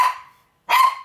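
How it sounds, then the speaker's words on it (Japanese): Two loud, close dog barks, each a sharp burst separated by a short silence, with no talking. "いちご出てこないよ、そのワンワンしたら。"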